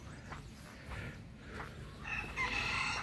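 A rooster crows amid clucking chickens in a park, with the crow rising clearly near the end over a steady outdoor background.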